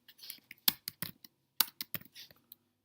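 Keys clacking on a computer keyboard in short irregular bursts, close and fairly quiet, with brief pauses between clusters of strokes and no talking.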